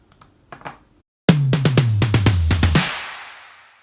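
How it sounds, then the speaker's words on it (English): A snare drum layered with a white noise hit, heard as a few faint taps and then a fast roll of crisp hits ending in a bright, washy burst that decays over about a second. "that white noise hit on top of it"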